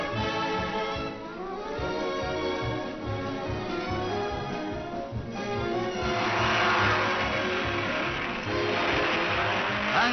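A 1950 Alfa Romeo Formula One race car pulls away after a pit stop at Reims, its engine roaring loud and steady, rising in pitch as it accelerates, heard alone without voices.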